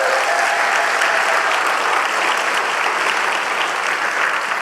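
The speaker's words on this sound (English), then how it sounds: "Can we give them another round of applause, please?" A conference plenary audience applauds in a steady, loud wash of clapping that holds evenly from start to finish with no talk over it.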